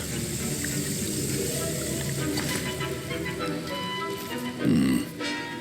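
A potion is stirred in a cauldron in Hogwarts Legacy, giving a continuous watery bubbling and sloshing with a brief louder swirl near the end.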